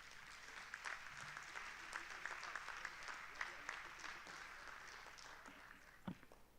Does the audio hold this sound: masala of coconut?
no